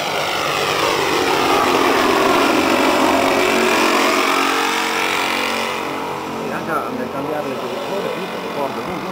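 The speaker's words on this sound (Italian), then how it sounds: "Motori perfettamente in sincrono, sentite, non esiste nemmeno il battimento tipico dei plurimotori" A multi-engine propeller bomber at an air show thunders loudly overhead, its engines droning in smooth sync with a sweeping rise and fall as it passes, while people talk in the background.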